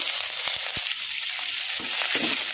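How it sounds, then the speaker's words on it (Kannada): Green chillies and curry leaves fry in hot oil, giving a steady, close sizzle with a few soft stirring taps scattered through it. "ಸ್ವಲ್ಪ ಫ್ರೈ ಆಗೋವರೆಗೂ ಫ್ರೈ ಮಾಡ್ಕೊಂಬಿಡೋಣ ಹಸಿಮೆಣಸಿನ್ಕಾಯಿ ಕರಿಬೇವನ್ನ"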